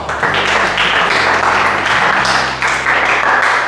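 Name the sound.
audience applause for the fourth group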